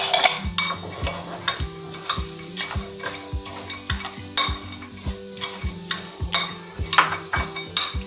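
A spoon stirring ground cinnamon and raisins into a batter mix for raisin bread rolls, a steady run of regular scraping, clinking strokes against a bowl, close and fairly quiet.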